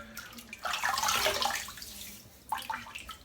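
Water pours in short bursts from a tap to wet a head before shaving, a near, moderately loud rushing splash that swells, fades, then returns briefly.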